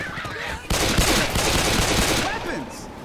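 Rapid automatic gunfire in the zombie shooter Left 4 Dead 2, a dense loud burst of about two seconds that starts abruptly and fades, with brief talk before and after.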